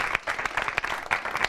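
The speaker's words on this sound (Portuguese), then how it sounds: "Uma salva de palmas agora para os nossos 3 convidados." A studio audience at a Brazilian political talk show breaks into steady applause for three guests, dense clapping filling the space at close range with no voices over it.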